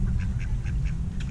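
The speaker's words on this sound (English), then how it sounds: "Duck, hear him quack, quack, quack," A duck at a lake quacks in a steady series of short calls, about six evenly spaced, over a heavy low rumble of wind or outdoor noise, with mallards and other ducks nearby.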